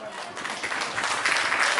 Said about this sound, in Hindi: बहुत ही आदर सहित हम मिलकर अभिनंदन करना चाहेंगे जोरदार तालियों के साथ